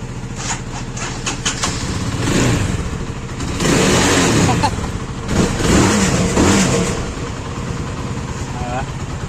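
A motorbike engine with its stock exhaust pipe revs up in repeated bursts, mid-distance, with voices talking over the engine noise.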